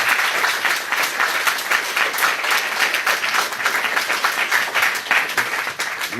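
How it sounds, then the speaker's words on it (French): Sustained audience applause at a gathering of an association for highly sensitive people, dense many-handed clapping holding steady and fairly loud throughout. "Je pense qu'on peut tous l'applaudir."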